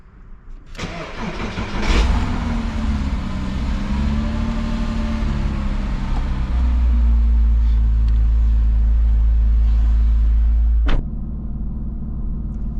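A Porsche starts in an echoing parking garage with a sharp crank, rises into a loud rev and settles into a deep, steady idle with a lower rumble before cutting off abruptly near the end.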